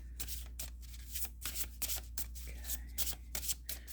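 Astrology cards are shuffled by hand in quick, repeated riffling bursts, soft and close, over a low background hum.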